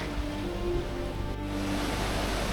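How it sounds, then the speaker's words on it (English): Broad, steady roar of a rushing river on Bolivia's El Choro trek, a loud, unbroken wash of water noise heard from nearby. "Came out at the river again."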